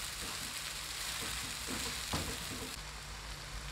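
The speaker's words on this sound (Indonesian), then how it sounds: "Kemudian masukkan ayam dan tulangnya. Ini kita masak dulu sampai harum, sampai daging ayamnya berubah warna." Ground dried shrimp and chicken pieces with bones sautéing in a pan for Indonesian ketupat vegetable stew, a steady close sizzle with faint stirring scrapes throughout, no voices.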